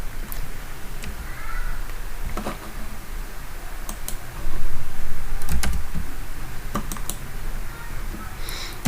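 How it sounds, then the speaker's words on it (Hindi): Typing on a computer keyboard at a workbench where a desktop motherboard with an LM324 power IC is being examined: irregular close key clicks and taps in short runs over low room noise, with no speech. "हम इसको टाइप भी कर देते हैं"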